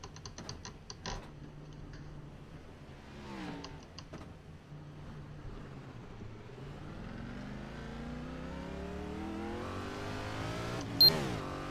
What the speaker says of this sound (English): that car is really unsettled coming up over those humps